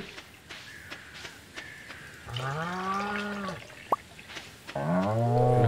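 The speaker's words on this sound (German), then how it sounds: "dann melken wir mal die Kühe" Cows mooing in Stardew Valley while being milked, several drawn-out, low bellowing moos at close range, separated by soft game clicks and footsteps, with a brief sharp tone between calls.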